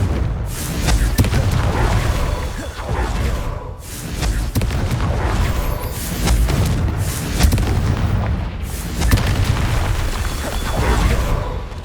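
Explosive Confringo spell blasts in the Hogwarts Legacy video game, a run of repeated booming bursts in quick irregular succession, loud and close throughout.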